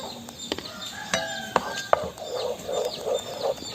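Kashmiri chili powder stirred into homemade pizza sauce in a pan, with a soft simmer and repeated sharp spoon taps and scrapes against the pan, close and moderately loud.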